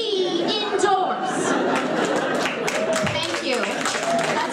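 Audience at a comedy show applauding and cheering with scattered laughter and chatter, a steady, dense crowd sound that fills the whole span without a break.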